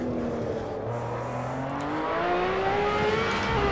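Race car in the Assetto Corsa game braking hard and downshifting into second gear for the last chicane, a steady engine drone with pitch sliding as the revs change, loud and continuous with no talking.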